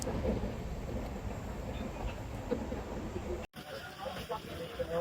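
A moving passenger train heard from inside the carriage: a steady, dense rumble and rattle that continues throughout, with a brief dropout partway through.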